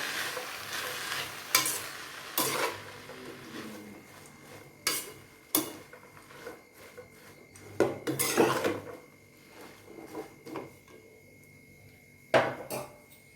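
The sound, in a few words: stir-frying greens (keerai) in a pan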